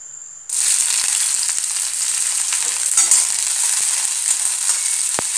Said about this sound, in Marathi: आता यामध्ये आपण पहिल्यांदा शिमला मिरची घालायची।